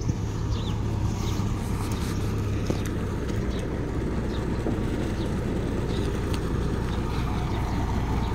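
A pickup truck reversing with a trailer attached, its engine a steady low rumble heard close and continuous throughout, with faint rattling over the top and no speech.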